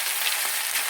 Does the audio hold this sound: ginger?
yes